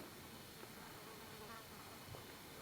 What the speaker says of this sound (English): there's a lot of bugs around here